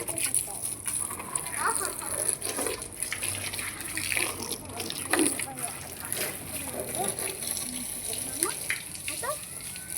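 Water is sprayed onto a surface in a steady, hissing gush with small splashes, fairly close, while a person talks over it throughout.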